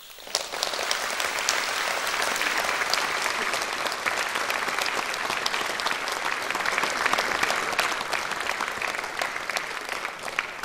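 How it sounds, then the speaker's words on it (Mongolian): A gala concert audience of German music at the German Embassy in Ulan Bator applauds to welcome the conductor, with steady, dense clapping sustained throughout, full and continuous. "Та бүхэн халуун алга ташилтаар өгтөө өгнө."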